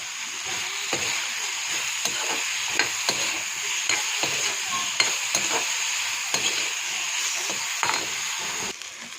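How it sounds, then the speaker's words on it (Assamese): Brinjal slices frying in oil in a pan with a pinch of salt, giving a steady close sizzle broken by frequent light scrapes and clicks of stirring throughout, with no talking. "বেঙেনাখিনি প্ৰায় ভাজা হৈ আহিছে।"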